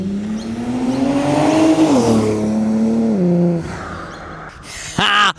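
A Kia Stinger GT with a DM aftermarket exhaust revs at full throttle, a loud close engine note climbing in pitch, easing off, then a sharp high-pitched burst at the end.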